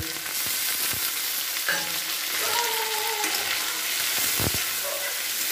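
Masala of ground cumin, turmeric, salt and chopped tomato fries in a pan for a Bengali drumstick curry, a steady close sizzle with a few scrapes and knocks of a spoon against the pan, no voices.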